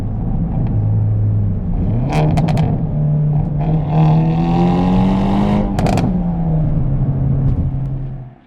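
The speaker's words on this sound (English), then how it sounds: "Really nice pops out of the exhaust." Modified Hyundai Elantra N with a 340 whp setup, recorded by an exhaust mic on the road: loud engine drone rising and falling through revs, with a few sharp exhaust pops and crackles mid-pull.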